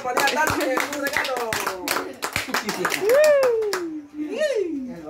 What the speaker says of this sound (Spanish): Un aplauso para la Tati, un regalo.